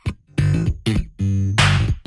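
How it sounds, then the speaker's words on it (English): Slapped and popped notes on a live electric bass come in short percussive bursts with sharp attacks, close and loud, with no talking. "You can do bass slaps with it."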